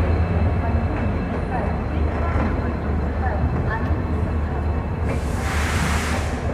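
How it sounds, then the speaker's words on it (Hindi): Double decker Uday Express train pulling out of Jaipur station, a steady low rumble of rolling wheels and carriage noise running throughout, with a hissing surge near the end. "टाइम सामने 6:02 और ट्रेन हमारी रवाना हो चुकी है जयपुर स्टेशन से।"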